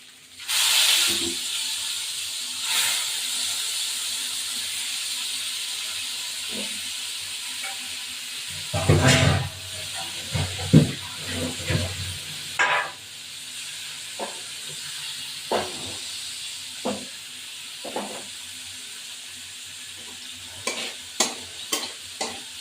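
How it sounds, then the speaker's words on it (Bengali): Hilsa fish fry in hot oil with a continuous hissing sizzle, broken by bursts of spatter and repeated sharp clinks of a spatula stirring and turning the pieces in the pan. "এবার ইলিশ মাছগুলো ভাজা বসিয়ে দেবো।"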